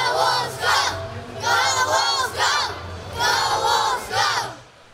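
A big crowd at Rim Park during a hockey game, roaring and chanting in loud swelling waves, rising and falling several times in quick succession with no clear speech.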